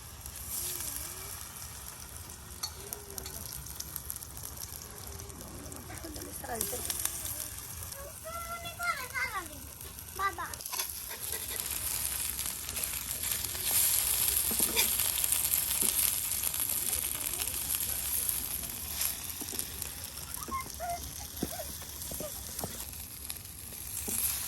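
Eggplant fritters (begun bora) fry in hot oil in a rural village kitchen on a winter morning, giving a steady soft sizzle and crackle throughout, with occasional stirring and voices talking nearby.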